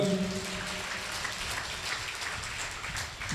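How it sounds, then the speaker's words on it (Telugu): A church congregation at a Sunday service claps loudly together, a dense, steady wash of applause with no voices over it for a few seconds. "చప్పట్లు కొట్టండి గట్టిగా"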